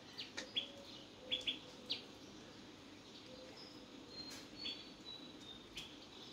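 Faint, scattered bird chirps come from pigeons and crows feeding outdoors on an empty street in the early morning, a few short calls over a low, steady background hush.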